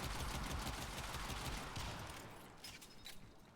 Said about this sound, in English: So this guy shoots me.